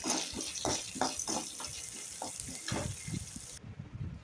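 Vermicelli is stirred and fried in a pan at home, giving a soft sizzle. A rhythmic series of scraping strokes runs close by and quiet.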